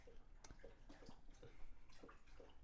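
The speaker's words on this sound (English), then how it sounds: "That's the dog drinking water." Soft, wet lapping sounds repeat in a quick, uneven rhythm, close by, like an animal drinking water, with no talking.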